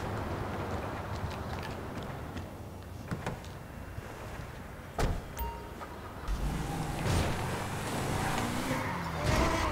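A car in the GTA V video game drives and skids, with engine noise and sharp tire squeals building toward the end, loud and close with no talking.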